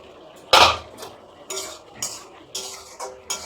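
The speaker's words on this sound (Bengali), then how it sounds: "আরেকটু বাসন এদিক ওদিক সরিয়ে রাখতে হবে" Metal dishes, pots and cutlery are moved and set down while tidying a home kitchen, giving a sharp clatter followed by several lighter clinks and knocks at roughly half-second intervals, close by and without speech.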